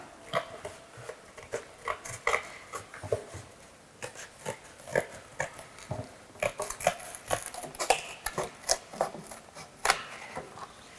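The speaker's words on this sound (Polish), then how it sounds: "Kiedy mamy już wyrysowany nasz ekran, wycinamy nożyczkami." Scissors cutting out a paper screen, giving a run of short snipping and crunching strokes close by, in an irregular rhythm broken by brief pauses.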